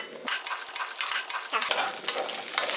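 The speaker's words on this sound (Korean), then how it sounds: "살살 볶아주면서 기름 소리 나오지?" Thinly sliced small late-season chili peppers sizzle in hot cooking oil while a utensil stirs and scrapes the pan in quick, uneven strokes.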